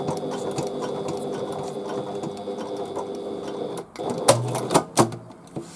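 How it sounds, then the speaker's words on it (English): A domestic sewing machine stitches bias binding onto fabric in a steady mechanical whir, then stops, followed by a few sharper clunks and handling knocks close by. "I'm just going to carefully stitch over and meet the seam"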